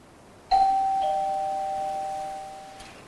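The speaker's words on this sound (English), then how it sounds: "and she presses the doorbell" A single electronic doorbell chime sounds once, a clear sustained tone that slowly decays over a couple of seconds in a quiet room.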